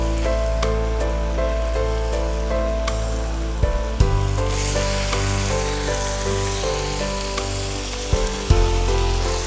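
Small chicken pieces, 1.5 kilos, sauté with masala in a pan, a loud continuous sizzle with a steady hum and occasional sharp knocks of a spatula against the pan.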